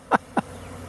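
Honey bees from a swarm being captured from a tree limb buzz past in two brief, close bursts, with a faint hum between them.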